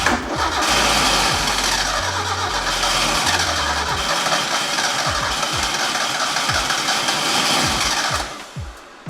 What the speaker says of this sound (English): I also unplugged the fuel pump so we can just keep cranking it.